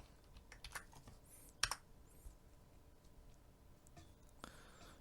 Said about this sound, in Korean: 터미널을 열고 이 긴 문구를 입력해 줍니다